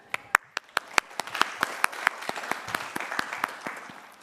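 A university commencement crowd applauds, with crisp nearby claps over a broad bed of clapping that stays steady for several seconds.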